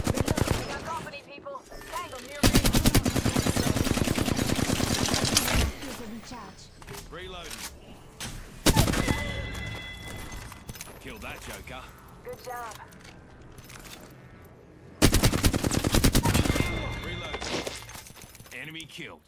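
Sniper rifle and gunfire in a multiplayer shooter video game, several loud bursts of rapid shots separated by quieter stretches, with a player talking throughout.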